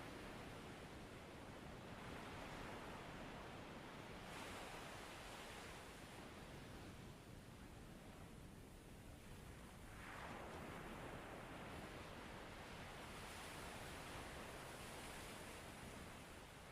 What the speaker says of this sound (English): as you watch the water recede.